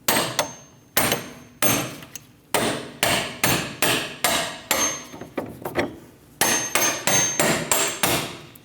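Steel punch driven with a hammer through the lower control arm bushing of a 2011-2027 Dodge Durango 5.7L V8, with about fourteen loud, sharp metallic strikes in a steady rhythm, close by and without talk.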